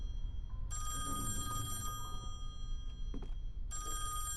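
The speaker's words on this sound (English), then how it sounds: "The phone. Should I answer?" A telephone rings twice in a spooky Halloween video game, two loud electronic bursts separated by a pause, over a low droning ambient background with no talking.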